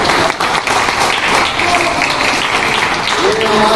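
An audience applauds children performing punches at a taekwondo academy opening ceremony in Attock, a dense, loud, sustained wash of clapping from a crowd with voices mixed in throughout.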